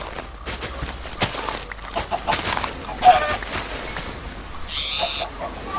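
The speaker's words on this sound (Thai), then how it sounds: "ไก่กุ๊กกุ๊ก" Chickens in the video game Minecraft cluck in a handful of short, scattered bursts over a steady bed of game ambience, at moderate loudness.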